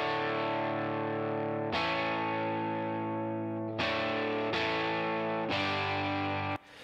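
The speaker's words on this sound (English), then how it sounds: "So for the Telecaster part, listen to that by itself." An unequalised Telecaster electric guitar plays sustained chords, bright and slightly distorted, with four distinct strums ringing out in sequence, loud and alone with no talk.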